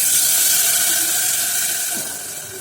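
Tamarind water sizzles and hisses loudly in a hot pan, a steady bright frying hiss that eases off slightly near the end.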